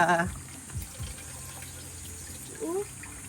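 Cold water runs faintly at a spring near a hot spring bathing area, giving a soft, quiet trickle and splash. Brief watery gurgles occur at the start and near the end.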